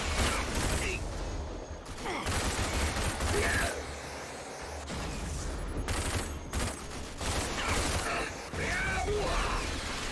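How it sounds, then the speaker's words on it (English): Rocket launcher fire in a Gears video game, with several loud blasts and crashing bursts over rumbling explosions, coming in uneven clusters separated by short gaps. "A rocket launcher, even."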